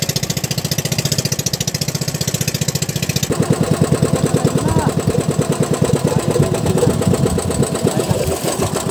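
A close, steady boat engine chugs with a pulsing beat at night, its tone shifting partway through as it falters; voices talk over it and the motor keeps running to the end.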